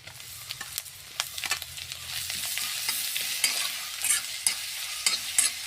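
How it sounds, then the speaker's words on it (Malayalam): Onion and spice paste frying and being stirred in a pan for chicken pepper roast, a steady close sizzle broken by repeated scraping strokes of the spoon against the pan. "സവാള ഇട്ട് കൊടുക്കാം പേസ്റ്റ് ഇട്ട് കൊടുക്കാം"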